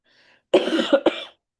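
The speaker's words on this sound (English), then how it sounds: "Still have a cough." A single harsh cough bursts out after a brief quiet moment, followed by a second shorter cough, close and fairly loud.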